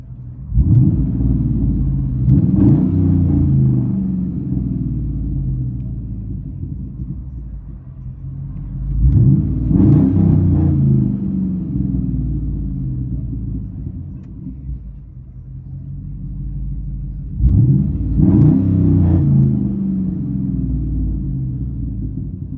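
A 2013 Chevy Silverado 5.3L V8 with true dual straight pipes rumbles from inside the cab, a steady deep drone that swells into three louder revs spaced several seconds apart.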